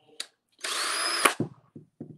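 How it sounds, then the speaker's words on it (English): A cordless drill driver runs on high speed in a single burst of steady whine lasting about half a second, close by. A click comes as it stops, and several short knocks and handling sounds follow. "I have it on high speed so I can drill something, drill holes"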